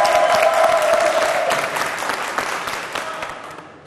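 An audience at a French-language youth debate competition applauds to welcome two university teams, a loud, dense burst of clapping that slowly fades, with crowd murmur beneath.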